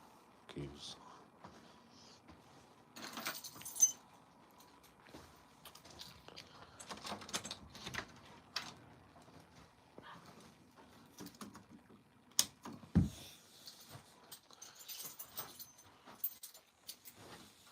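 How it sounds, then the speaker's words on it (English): Keys jangle and clink in scattered bursts close by, mixed with handling knocks and rustles while people talk. "Keys."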